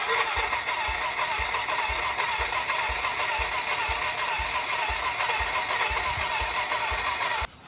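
A Kawasaki KLX110L dirt bike engine with carburetor trouble is cranked over, making a loud, steady, rhythmic chugging that continues for several seconds and stops abruptly without the engine catching.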